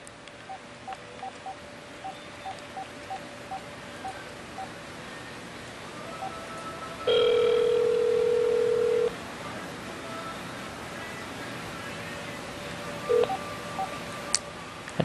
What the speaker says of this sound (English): now I'm going to place a test call to my cell phone here.